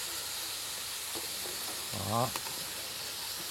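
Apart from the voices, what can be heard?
meat sizzling while frying in a pan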